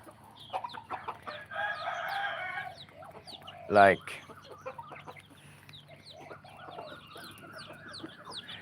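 A rooster and chickens are heard at feeding time: scattered clucks, one short loud crow partway through, then more soft clucking and calls close by.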